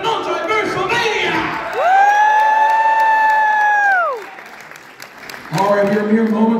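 A crowd at a wrestling show at Orlando MegaCon 2023 cheers and claps, with a long sustained whooping shout riding over the noise before it dips and the applause and yelling swell again.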